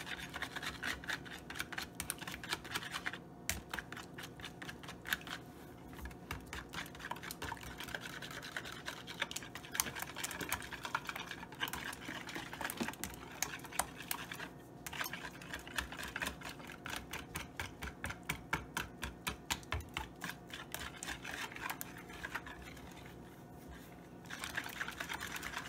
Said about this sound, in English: I'm going to froth these eggs just using my whisk